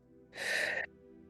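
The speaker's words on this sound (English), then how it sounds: "I invite you to start by taking a nice, deep breath" A single deep breath drawn in during a guided healing meditation, a soft, airy inhale of about half a second, close and clear against near silence.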